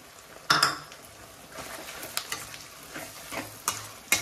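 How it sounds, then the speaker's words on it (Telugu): Onion and tomato paste hitting hot oil with fried boti (goat tripe) in a pan for gongura boti curry: a sharp sizzle burst, then scraping stirs and utensil clinks against the pan over a soft, steady frying hiss. "ఇప్పుడు వచ్చేసి ఆనియన్ ఒక టమాటా పేస్ట్ చేసానండి. ఈ పేస్ట్ వేస్తున్నాను."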